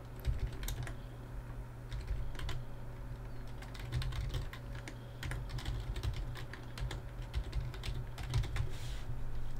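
Quiet, rapid keystrokes on a computer keyboard: a steady patter of soft clicks with occasional firmer taps, heard alone in a hushed room.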